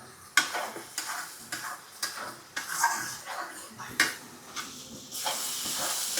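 Whole spices including cardamom and cinnamon frying in oil in a pan, a sizzling hiss broken by repeated stirring scrapes in an uneven rhythm.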